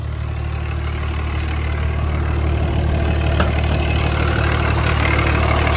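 A 2004 Dodge Ram 3500 4x4 one-ton with a 5.9 Cummins diesel, BD twin turbos and a three-piece exhaust manifold, idling steadily with a deep, even rumble up close, no talk over it.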